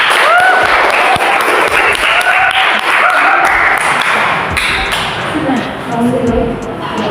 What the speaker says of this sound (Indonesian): mari kita kasih aplaus untuk Erna